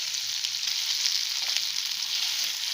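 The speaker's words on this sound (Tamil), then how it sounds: "ஒரு 2 நிமிஷம் ஃப்ரை பண்ணிவிட்டு அப்படியே இதை தனியாக எடுத்து வச்சுக்க போகிறோம்." Paneer pieces fry in hot oil with a constant, dense sizzle that stays close and even throughout, with no voices present.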